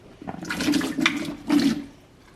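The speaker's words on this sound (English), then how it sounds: "we are going to get them in the water soaking and getting clean" Grapes soaking in water being swished around during home food prep, a splashing, sloshing wash in three loud surges, close by, with no talk.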